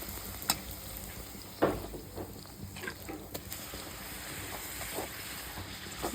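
Puris frying in hot oil in an Uttar Karnataka home kitchen, a steady soft sizzle with occasional sharper crackles and spatters, fairly close and continuous with no talk.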